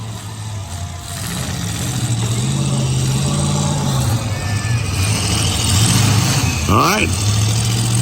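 V-8 demolition derby car engines idle and rev together at a fairground championship derby, a steady rough rumble with rising revs and a brief whining sweep, while a voice talks briefly over it.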